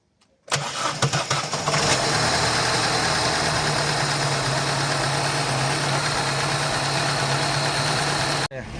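Opel Omega B car engine cranks and catches, then settles into a steady, loud idle that runs continuously for several seconds before cutting off abruptly near the end.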